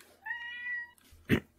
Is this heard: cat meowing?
yes